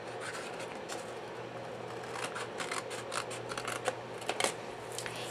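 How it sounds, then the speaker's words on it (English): Scissors snip through paper to trim rectangles for a tissue holder craft, a run of close, crisp cutting strokes that quicken and sharpen toward the end, with no talking. "I'm just going to use my scissors and cut these off"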